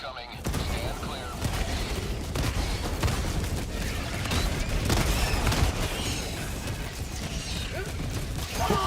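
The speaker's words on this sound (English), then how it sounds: "Orbital barrage incoming. Stand clear." A Helldivers 2 orbital barrage rumbles as a dense, continuous roll of overlapping explosions and low booms, loud and unbroken for several seconds.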